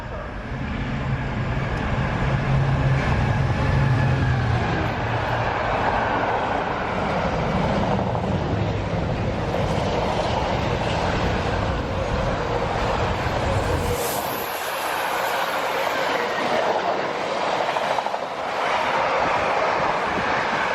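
Freight trains pass through a west London station, a loud, sustained rumble and roar that holds steady throughout, with a sharp drop in the low rumble partway through and no voices.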